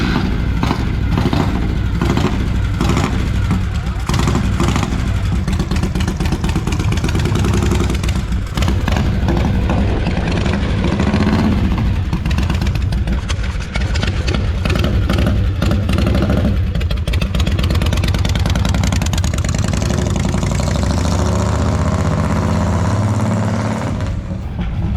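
A Harley-Davidson Panhead motorcycle engine runs steadily and loud for the whole stretch, with a rough, mechanical tone and some revving, and transmission noises are reported.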